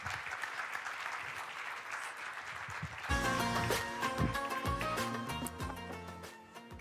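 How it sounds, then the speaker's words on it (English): Audience applause rises at a parliamentary congress, first as dense steady clapping, then joined by heavier, irregular claps that stay loud throughout. "Please, a round of applause."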